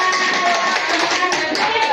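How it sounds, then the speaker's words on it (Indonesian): A classroom of students claps for their teacher, Ibu Nora, dense continuous clapping filling the room with some voices mixed in. "Ya, tepuk tangan buat Ibu Nora."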